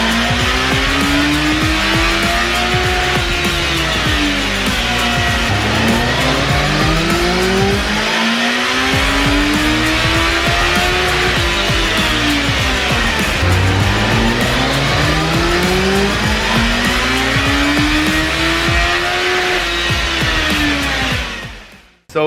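A 2024 Kawasaki ZX-14R motorcycle engine runs loud and close for about twenty seconds, its pitch sweeping up and down in repeated revving arcs before cutting off abruptly at the end.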